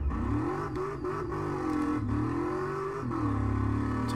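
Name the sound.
supercharged Reptilia R2 car engine revving, from a video game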